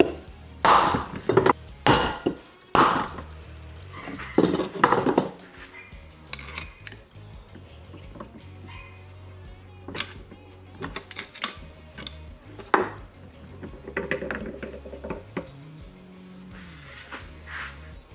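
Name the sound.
hammering a gear off splines of Toyota W56 transmission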